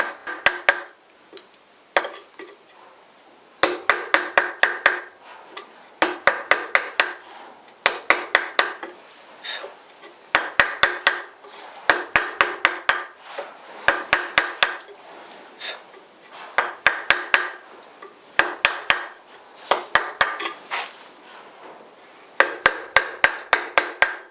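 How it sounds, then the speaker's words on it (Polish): A chisel cuts into a wooden gun stock, producing close, sharp wooden taps in quick clusters of several strikes. The clusters repeat at a steady pace with brief pauses between them, and no voices are heard. "Mogę sobie pomóc dłutkiem bardzo szybko."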